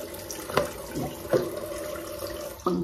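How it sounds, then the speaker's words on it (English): A bathroom tap runs while a face is washed, a steady stream of water close by, broken by a few louder splashes as hands cup the flow. "you take a little water, make it warm up in your hands"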